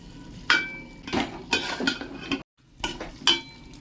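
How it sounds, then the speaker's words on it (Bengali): Spoon scraping and clinking against a pan while spiced chicken is stirred and mixed with salt, a series of sharp metallic knocks and scrapes with a short silent gap near the end. "ভালোভাবে এটা একটু মিশিয়ে নেবো হালকা হাতে"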